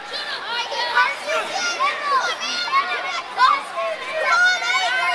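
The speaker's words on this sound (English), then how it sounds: "It's a lively crowd here at WrestleMania Axxess." A lively crowd of fans at WrestleMania Axxess chatters and shouts nearby, with overlapping voices, cheers and excited calls rising and falling throughout.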